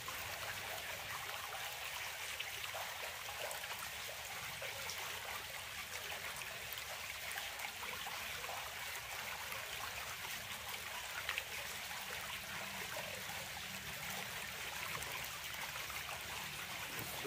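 Water flowing through a Katadyn BeFree filter into a bottle on a mountain trail, a steady, even trickling hiss that continues without a break.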